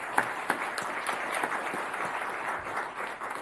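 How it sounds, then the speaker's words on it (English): A round of applause from a board meeting audience, dense steady clapping with a few crisp claps up front, fairly near and holding evenly throughout. "Let's give them a round of applause for that."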